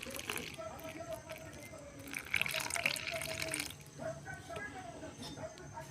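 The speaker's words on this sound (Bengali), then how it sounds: "এবার দেব একটু জল" Water is poured into ration atta flour to make egg roll dough, a soft trickle and gentle splashing that rise and fall close by at low volume. A voice speaks faintly in the background.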